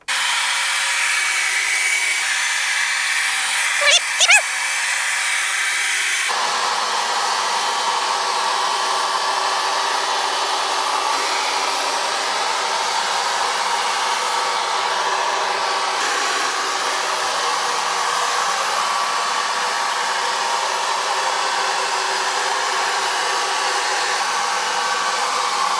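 A Bissell carpet cleaner runs on carpet with a loud, steady motor roar and whine; a couple of brief clunks come early, then the pitch shifts as it works across the floor and keeps droning throughout.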